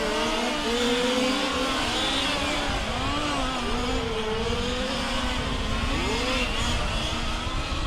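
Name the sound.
large scale RC race cars racing on track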